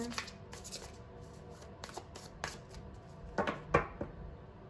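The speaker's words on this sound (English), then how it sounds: "I'm just gonna shuffle and we'll look at the bottom of the deck" A tarot card deck is shuffled by hand, with a string of soft papery riffles and flicks building to a few sharper snaps near the end, heard close and quiet.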